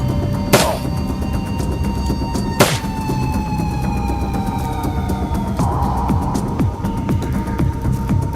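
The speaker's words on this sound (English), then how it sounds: "Maybe I should just pump some bullets into him." Gunshots in Shadowrun: Dragonfall: two sharp, separate cracks early on over a steady droning game background, followed by a softer thud, with long ringing tones trailing after each shot.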